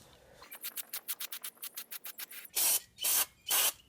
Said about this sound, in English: Okay, finish spraying that off.